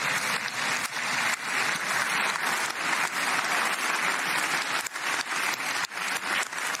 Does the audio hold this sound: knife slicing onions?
no